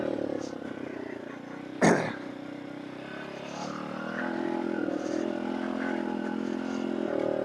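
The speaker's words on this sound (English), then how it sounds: "Second gear, pretty low RPM, so I'd say plenty of torque out of this little bike." A Tao Tao DBX1 dirt bike pulls along in second gear at low RPM, its small engine giving a steady, moderately loud drone. A single sharp clatter comes early, and the engine note rises slightly toward the end.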